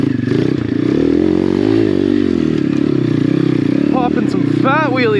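An Apollo RFZ dirt bike engine revs hard and continuously while wheelies are popped on slippery ground, a loud buzzing drone with rising and falling pitch, close up, with scraping clatter and a voice briefly over it.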